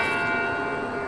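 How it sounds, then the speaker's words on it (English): A bell in the video game Death Toll rings out with a bright, sustained metallic tone whose overtones linger and slowly fade, heard alone and fairly loud. "I'm gonna ring the bell."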